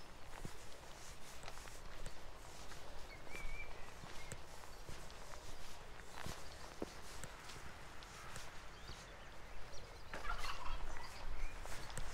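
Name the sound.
geese or turkey gobbling at a reservoir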